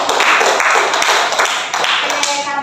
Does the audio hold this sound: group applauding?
yes